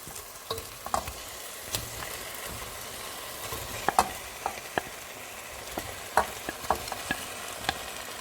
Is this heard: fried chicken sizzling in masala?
yes